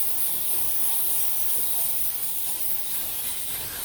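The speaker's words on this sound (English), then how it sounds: "adjusting the spray gun to the pressure I want" Paint spray gun hissing steadily in a paint booth while brake calipers for an Infiniti G37 are painted, a continuous airy rush held at an even level throughout with no talking.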